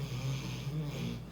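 A dog snoring indoors nearby, a steady low rumbling snore with a slight rhythmic pulse, soft and continuous with no talk.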